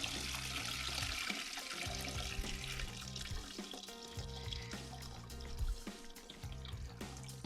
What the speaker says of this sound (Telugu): ఇప్పుడు ఈ నీళ్ళు కూడా దీనిలో పోసేసుకుందాం, మంచి నీళ్ళే.